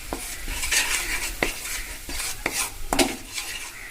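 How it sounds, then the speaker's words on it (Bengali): A spoon stirs cocoa powder into melted sugar in a pan while popcorn is being made, scraping and clinking against the metal in a handful of sharp, irregular knocks over a low continuous sizzle, close up and with no voices. "এই যে 1 চামচ কোকো পাউডারটা দিয়ে দেবো। দিয়ে আমরা মিশিয়ে নেবো এর সাথে ভালো করে।"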